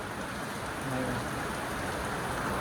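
Steady rain falls on an evening of a Rath Yatra procession, a dense even hiss of drops on surfaces throughout, with a brief faint voice in the background.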